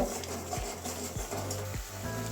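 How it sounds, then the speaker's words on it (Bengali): Spices being stir-fried in a small amount of oil with a pinch of sugar for a Bengali pointed gourd (potol) curry: steady close sizzle with regular spoon scrapes against the pan roughly every half second. "ভালো করে কষিয়ে নেব"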